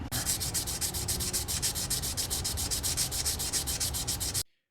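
Rapid, rhythmic back-and-forth rasp of wet sanding a die-cast toy car's metal body with 400 grit sandpaper and soapy water, steady and close, stopping abruptly at the end.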